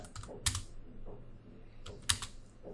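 A prompt being typed on a computer keyboard: a few brief clusters of close, crisp key clicks with quiet gaps between them, and no voice.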